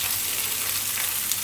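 Food in a pan sizzles gently on low heat for steak night, a quiet, even, continuous hiss with faint crackles and no voices.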